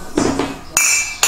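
Dishes being cleared after breakfast in a home kitchen: a few sharp clinks of plates and cutlery set down, close and fairly loud, with no talk.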